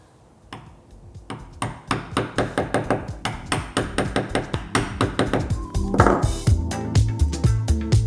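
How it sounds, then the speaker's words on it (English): A mallet strikes a wood chisel set into a marked hinge line, delivering a steady run of about two dozen sharp, close taps at an even rhythm, growing slightly heavier toward the end. "So I'm putting the chisel into the line."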